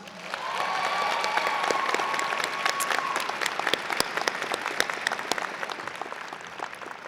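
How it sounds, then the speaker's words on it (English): An audience at a psychology commencement ceremony bursts into applause that swells quickly and holds steady, many hands clapping with a few sharp close claps and faint cheering, fading slightly toward the end. "I thought it would be great if we could just give him a round of applause"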